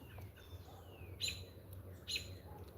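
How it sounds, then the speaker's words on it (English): Birdsong on a chilly morning: a few distinct chirps and descending whistled calls, moderately close, with two louder bursts standing out over a low, steady background hum, and no talking. "That bird is really happening this morning."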